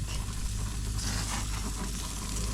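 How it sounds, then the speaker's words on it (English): Bacon frying in a pan gives off a dense, close, continuous sizzle with crackling pops, and no voices are heard. "those bacon are cooking so good"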